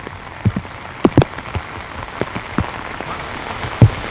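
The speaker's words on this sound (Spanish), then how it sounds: "Por desgracia, ese día, como suele ocurrir a menudo, la lluvia arrecia" Heavy rain pours down in a green forest, a constant hiss broken by close, loud drops splattering on nearby surfaces at irregular intervals, with no voices.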